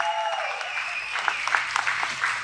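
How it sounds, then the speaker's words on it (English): Scattered, fairly faint applause from a military panel audience at an OCR expo in New England, with sparse claps over a steady background hum. "Give them all a round of applause, please."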